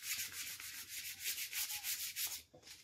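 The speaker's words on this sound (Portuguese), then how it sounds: "onde não foi lixado, você passar a mão, você já sente" A hand rubs back and forth across a sanded rustic wooden bench in a series of soft, close, rhythmic rasping strokes. The rubbing stops briefly near the end, then resumes.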